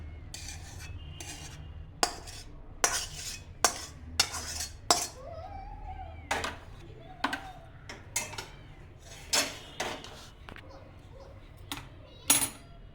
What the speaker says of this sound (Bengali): এবার একটা পাত্রে আমি ঢেলে নিলাম।